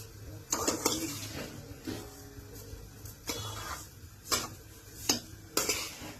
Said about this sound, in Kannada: ಚೆನ್ನಾಗಿ ಇದನ್ನ ಕೈ ಆಡಿಸ್ತಾ ಇರ್ಬೇಕು.